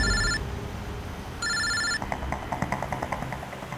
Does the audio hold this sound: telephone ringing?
yes